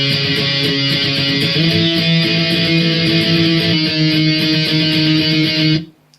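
An electric guitar plays the bridge of Blink-182's "Aliens Exist" in octave shapes, a dense, distorted and sustained tone with a rapid chugging pulse, loud and close, cutting off abruptly near the end.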